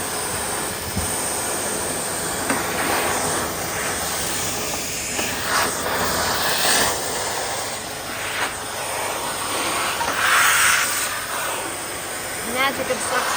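A vacuum cleaner sucks up sawdust left after sawing during a DIY clothes organizer build. It gives a loud, continuous rushing hiss with intermittent surges, while people talk over it.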